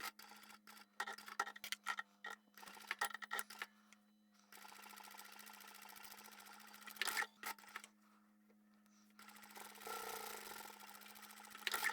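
Domestic sewing machine stitching a quarter-inch seam on a stabilised fabric card wallet, running in several quick bursts of rapid mechanical chatter separated by short pauses, close and fairly faint with no talk.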